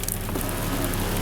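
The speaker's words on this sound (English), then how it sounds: "it's raining, sleeting today here really bad" Rain and sleet fall steadily outdoors, a dense, even hiss that holds without letup for the whole moment.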